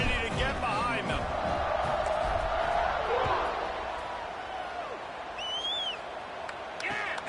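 Crowd noise at a college football stadium before a kickoff: a broad roar from the stands with scattered whoops, heard under a commentator's talk.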